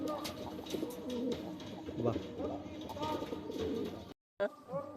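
Pet pigeons in a loft, including a male bird, coo in repeated low throaty phrases close by, mixed with soft chirps and someone talking over them before a brief silent gap.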